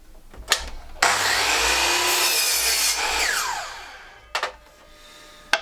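A power saw cuts the edge off a Tasmanian myrtle board in one sustained loud pass of about three seconds, its pitch falling as the cut ends, with short sharp knocks from the saw just before and after.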